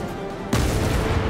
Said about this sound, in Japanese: 長門発砲。